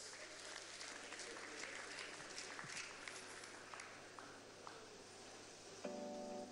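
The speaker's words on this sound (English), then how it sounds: "Come on, don't stop clapping." An audience at a 2019 business environment council award event claps at a distance, a faint, steady patter of applause with a brief tonal sound near the end.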